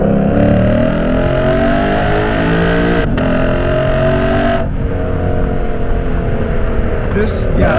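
A Lexus RC F with a loud exhaust accelerates hard from inside the cabin, its engine note climbing steadily through the gears with brief shift breaks, loud and continuous throughout.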